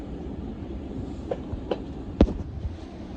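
London Northwestern Railway Class 350 electric train running near Euston, a steady low rumble with a few faint clicks and one sharper knock.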